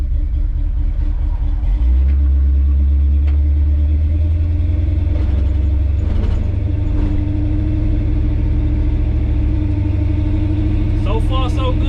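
A 1983 Chevy C10 pickup with a small-block 350 V8 rumbles low and close as it pulls away and accelerates, the engine drone swelling beneath people talking inside the cab.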